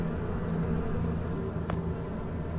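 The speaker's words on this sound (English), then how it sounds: "Oh, you can't go in there because of the bees." Bees buzzing in the point-and-click game The Silent Age, a steady low droning hum that holds throughout, with a brief faint click partway through.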